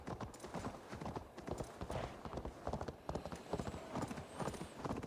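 An elk mount's hooves clop in a steady, rapid gait across the ground in Assassin's Creed Valhalla, fairly close and continuous, with a soft animal call near the end.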